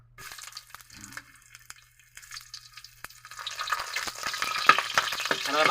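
Ginger drops into hot cooking oil and begins to sizzle, the frying growing louder and denser over a few seconds, with light stirring clatter close by.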